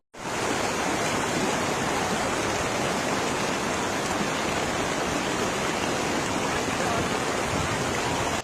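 Floodwater rushes through a flooded street in Rubiana, Italy, during a flash flood: a loud, unbroken roar of churning water that holds the same level throughout, with no other sounds standing out.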